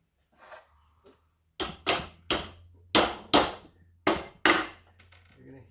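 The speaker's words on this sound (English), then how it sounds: "Hammer it into the stud and then secure it with a couple screws." Seven sharp hammer blows drive an electrical box into a wooden stud, coming in quick pairs and triplets, loud and close after a few faint taps.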